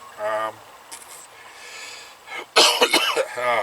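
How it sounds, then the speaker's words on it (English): A burst of harsh, raspy coughing up close, with brief voiced sounds before and after it. "Coughing away here"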